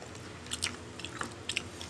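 Crunchy braised pork belly, Filipino humba, bitten and chewed close to the mic, with a few sharp crisp crunches spread over about two seconds and quiet between them.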